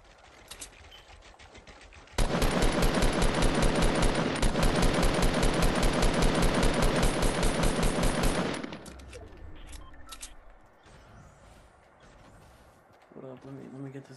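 Fortnite gunfire erupts in a long rapid burst of automatic shots lasting several seconds, loud and dense, then cuts off into quieter game sounds and a few scattered clicks, with players talking over the action.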